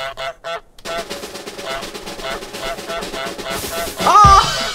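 Cartoon goose honks from Untitled Goose Game, a few loud nasal calls near the end over busy background game music, with a person talking around it.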